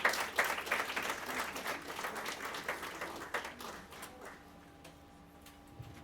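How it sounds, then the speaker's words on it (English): Audience applause at an SPE Lagos Women In Energy event in a hall. Clapping is moderately loud at first, then thins and fades over a few seconds to a quiet room with scattered claps. "Can we give them a round of applause"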